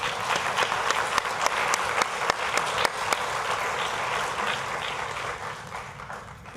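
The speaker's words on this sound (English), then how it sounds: "A round of applause for all of the people I shared." Sustained audience applause at an evening varsity awards ceremony, steady dense clapping from a crowd that carries evenly through the whole stretch before tapering slightly at the end.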